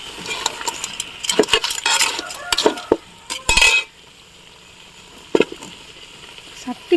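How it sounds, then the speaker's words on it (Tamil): Crab and masala stir-fried in a large pan, with a burst of rapid metal spatula scrapes and clanks over a light sizzle that then drops to a quiet simmer broken by a few isolated clacks. "எல்லா மசாலாவும் மிக்ஸ் ஆகிற மாதிரி நண்டை நல்லா வதக்கி விடணும்."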